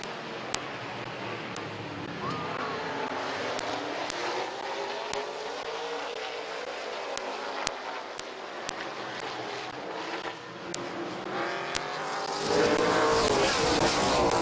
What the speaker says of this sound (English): And away we go, heat race number 2 of the McIntosh Oil Company late models.